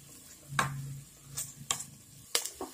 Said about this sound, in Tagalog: So next, ilagay na natin yung tuna.